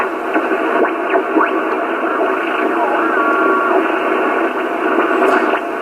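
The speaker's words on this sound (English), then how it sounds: "Let's go down on the 40 meter band, see if we can pick up any amateur stations on that." A Trio R1000 shortwave receiver tuned to lower sideband on the 40 meter band, giving a loud, steady band of static and garbled sideband chatter with whistling tuning sweeps across it.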